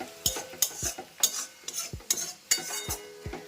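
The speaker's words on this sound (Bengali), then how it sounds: "পেঁয়াজটা কষাচ্ছি।" Onions being sautéed in a pan, stirred with a utensil: a series of sharp scraping clinks roughly every half second over a faint sizzle, close and fairly quiet, no voices.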